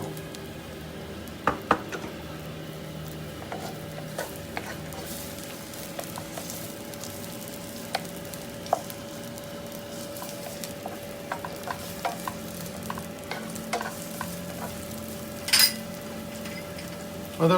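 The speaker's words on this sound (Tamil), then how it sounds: "கொதிக்கிற எண்ணெயில் நாங்கள் வெங்காயத்தை போட்டுக்கொள்வோம்." Onions dropped into boiling oil in a pan for a drumstick-leaf (murunga keerai) stir-fry give a soft, steady sizzle, with scattered clinks and scrapes of a stirring spoon against the pan, and no talking.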